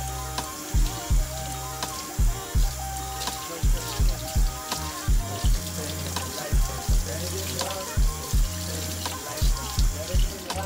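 Water runs steadily from a tap while freshly washed, relaxed short hair is rinsed, a continuous splashing stream broken by regular louder thumps and spatters, with a voice talking in the background.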